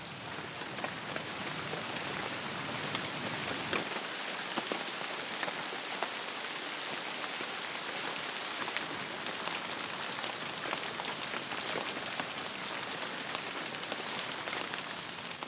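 Heavy tropical rain in Madagascar pours steadily onto surfaces, a dense, continuous hiss of drops with no voices, constant and loud throughout.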